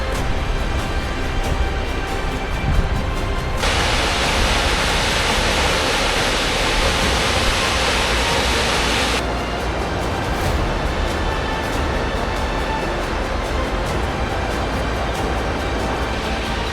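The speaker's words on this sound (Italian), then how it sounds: "nel sottofondo c'è il rumore del torrente, delle cascatelle che abbiamo superato in precedenza" Steady, loud rushing of a mountain stream and small waterfalls in a conifer forest below the Marmolada, a dense continuous roar that swells noticeably in the middle stretch, with no voices.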